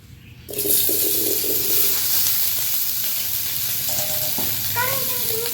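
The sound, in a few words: potatoes frying in oil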